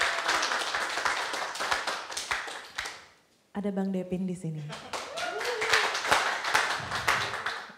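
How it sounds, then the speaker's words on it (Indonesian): A live-session audience claps for the band members, with a scatter of hand claps over the talking, then a short tuned musical phrase after a brief pause, and the clapping and talk resume. "Tepuk tangan."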